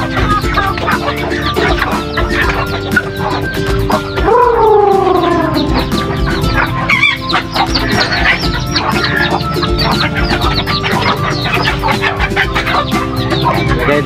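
Penned chickens clucking while waiting for food, a dense continuous chorus of clucks close by with a couple of louder rising calls standing out, no talk.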